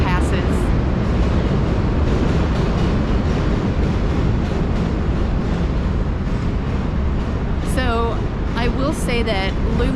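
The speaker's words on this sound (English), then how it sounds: "I'm gonna wait till this train passes." Loud, continuous rumble of a train passing by in Chicago, heard up close throughout with a steady roar, while a person talks near the end.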